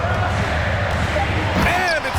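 A basketball slam dunk by Adams in NBA 2K22, a sharp rim slam and ball impact amid crowd noise and steady commentator talk throughout.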